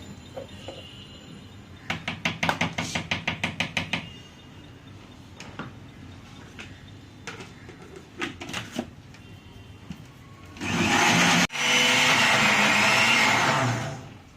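A kitchen blender grinds soaked leftover rice for chips, first in short rhythmic pulsed bursts, then in a loud, sustained whirring run near the end.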